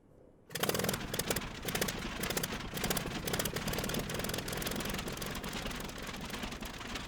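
Curtiss Jenny biplane engine in Microsoft Flight Simulator 2020 fires up after a brief quiet moment, then settles into a loud, steady, chugging idle heard from outside the aircraft.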